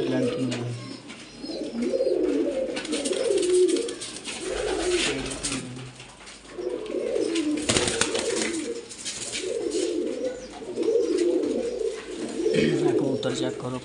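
Pigeons kept for sale, cooing in repeated soft rolling phrases close by, with brief pauses between bursts and a few louder bumps.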